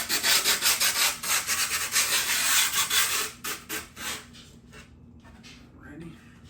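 A skateboard deck is sanded by hand up close, rhythmic rasping strokes of sandpaper on wood repeating quickly, then slowing and fading into scattered rubs, with a voice briefly audible.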